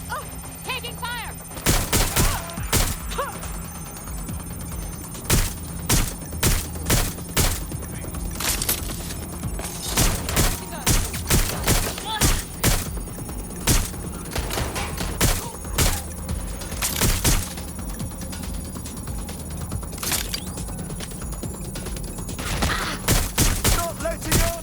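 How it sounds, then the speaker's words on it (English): Gunfire in the Watch Dogs Legion video game, bursts of sharp shots and rapid volleys scattered throughout a long firefight, loud and close over a steady background drone, with occasional shouted voices. "Suspect has opened fire!"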